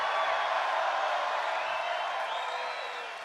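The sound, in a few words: large rally crowd cheering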